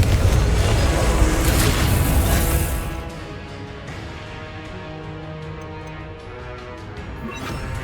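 Confringo spell blasts in the wizarding game Hogwarts Legacy, a loud roaring boom with rumbling debris fading into quieter crackles and scattered impacts.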